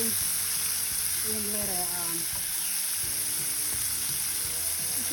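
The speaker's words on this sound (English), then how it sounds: "And I'm ready to add spinach with it. And let it saute." Spinach sautés in a hot pan with a steady, loud sizzle and frying hiss running throughout, while a voice speaks briefly over it.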